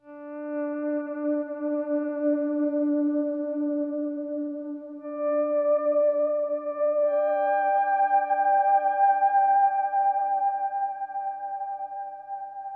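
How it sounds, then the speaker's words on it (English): Sustained, echoing single guitar notes swell in gently without a pick attack using a volume pedal and delay, layering into a soft, ambient drone that shifts pitch slowly. "I can create these single note sort of mysterious moments, kind of non-guitar guitar parts."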